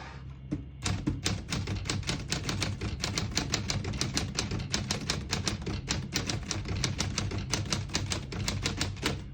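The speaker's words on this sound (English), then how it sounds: "Beautiful typing machine, very popular model. The sound is unique." Rapid, steady clacking of a 1948 Smith-Corona Clipper portable typewriter, keystrokes striking in quick succession with no voices.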